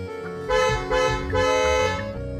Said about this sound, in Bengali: ভেতরে বসে কেউ একাধারে হর্ন বাজিয়ে যাচ্ছে